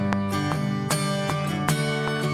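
A recorded drum loop plays back alone, with crisp, evenly spaced hits landing tightly on the beat over a steady sustained tone.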